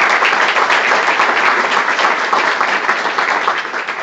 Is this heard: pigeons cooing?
no